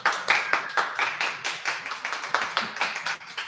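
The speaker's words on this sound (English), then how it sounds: "they're getting paid a breakfast sandwich to clap" A small radio-studio audience claps steadily, a brisk run of close, sharp handclaps lasting a few seconds with little else underneath.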